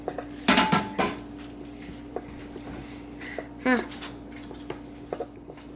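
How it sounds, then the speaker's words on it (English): A serrated knife scrapes and taps against a plate while cutting hummus, a few short close clinks and scrapes with quiet gaps, with a voice speaking at times. "Now I'm gonna cut the hummus."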